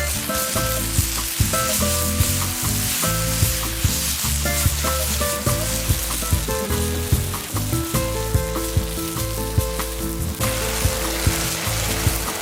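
Vegan gluten and soy sauce sizzle hard in a frying pan, a loud, dense crackle under a rhythmic pulsing of music-like tones, with no voices.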